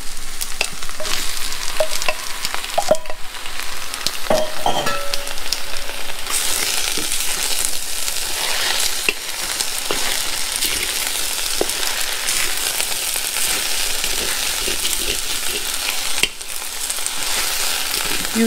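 Shrimp sizzling and frying in a pan for pad Thai, a loud continuous crackling hiss with scraping stir strokes from a wooden spoon, close and uninterrupted, no talk.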